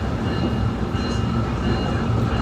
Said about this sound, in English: we are going at a top speed on this train